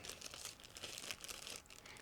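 Clear plastic bag holding the transparent parts of an Arma Hobby 1/72 Nakajima Ki-84 Hayate model kit crinkles steadily and close up for about two seconds, a dense continuous rustle with no talk.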